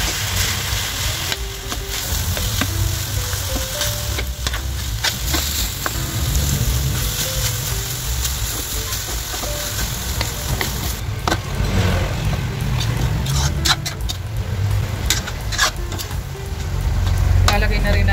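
Cubes of ground pork frying in a hot pan, with a steady, dense sizzle that runs continuously and fairly loud throughout, with occasional stirring clatter.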